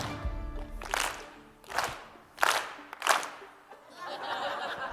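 Audience in a Des Moines business talk clapping together on cue, four loud, evenly spaced unison claps in a row, followed by a rising wash of scattered applause and cheering.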